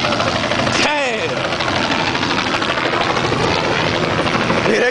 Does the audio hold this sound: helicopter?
yes